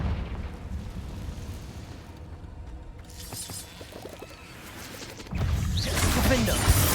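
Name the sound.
Confringo fire spell explosion in video game Hogwarts Legacy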